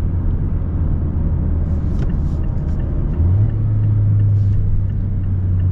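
A 2022 Mazda MX-5 Miata RF Grand Touring engine drones steadily inside the cabin while downshifting, its pitch stepping up partway through and holding a louder rev, with no talk over it.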